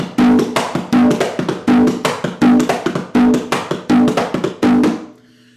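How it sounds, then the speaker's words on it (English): Puerto Rican plena rhythm beaten on hand drums, a loud, close repeating pattern of sharp slaps and ringing tones in even cycles that stops abruptly at the end. "And so that music has a rhythm that sounds like this."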